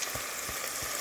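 Sausage fries in grease in a Dutch oven, a constant close sizzle with a few soft stirring scrapes at intervals, no voices.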